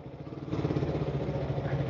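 A motorcycle engine idles close by with a low, steady throbbing rumble that grows slightly louder partway through, with no talking.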